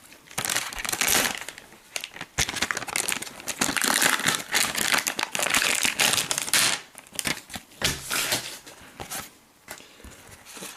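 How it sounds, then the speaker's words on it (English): A pile of Dice Masters cards from a Justice League set tumbles and spills during unboxing, making dense crinkling, rustling and papery slapping that comes close and in uneven bursts with a few brief pauses. "Oh no, avalanche of cards now."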